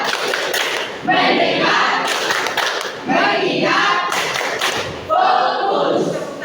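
Children's rhythmic focus clapping routine in a classroom concentration lesson: three loud bursts of clapping and thumping hands about two seconds apart, each set off by spoken chanting between them.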